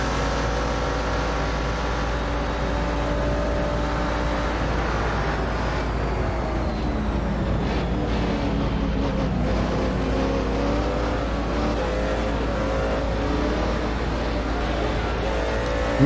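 Engine of an orange McLaren historic prototype race car at Watkins Glen, a loud continuous droning roar heard from close by, with the pitch rising and falling as it accelerates and works through gears.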